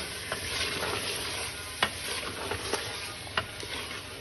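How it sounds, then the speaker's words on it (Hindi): Green chickpeas roasting in a pan for a chickpea gravy, a steady close sizzle broken by a few sharp scrapes and clicks of stirring, with no voices. "अब इसमें हमने छोलिए के जो दाने हैं वो डाल के इसकी भुनाई करेंगे 5 मिनट"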